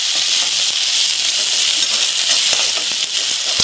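Chopped onions sautéing in hot oil in a pan, a bright, continuous sizzle and hiss with occasional small pops and stirring clicks, close and loud, no voices.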